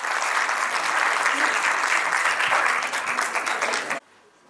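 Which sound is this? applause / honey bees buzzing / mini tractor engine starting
applause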